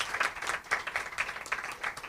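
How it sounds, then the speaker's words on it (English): Audience applause at a celebration honoring a newly named Doctor of Sciences, a moderate crowd clapping with a rippling, uneven rhythm, fairly quiet and steady for a couple of seconds. "we should give him a lovely round of applause."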